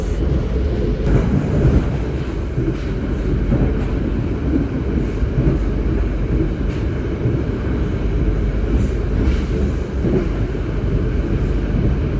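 A Joglosemarkerto passenger train rides along the rails in Indonesia with a steady, loud rumble and faint rhythmic clatter, continuous throughout with no talking.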